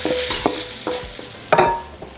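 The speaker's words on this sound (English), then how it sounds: "so we're just going to move our meat around. Allow it to get nice and brown." Beef for a beef and broccoli stir fry browning in a hot wok with oil, with a steady sizzle broken by several sharp scraping stirs of the utensil against the pan.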